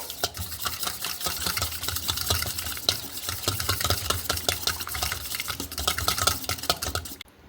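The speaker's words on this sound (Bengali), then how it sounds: "এবার খুব সুন্দর করে ফেটিয়ে নেবো ডিমটাকে" Eggs and salt being whisked briskly in a bowl for a bread-and-egg breakfast snack, a fast steady run of close clicking and tapping strokes that stops abruptly at the end, no talking.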